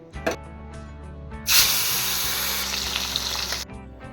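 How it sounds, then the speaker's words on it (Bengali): Fish pieces dropped into hot oil burst into a loud, close hissing sizzle that holds for about two seconds and then cuts off, after a few light clinks against the pan. "তেল গরম হয়ে গেছে এবার আমি"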